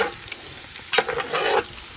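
Bacon sizzles and fries in a Dutch oven, a steady crackling hiss close by, stirred with a couple of scraping clatters and no talk.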